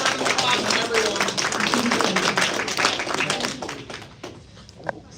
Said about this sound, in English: give a round of applause to everyone.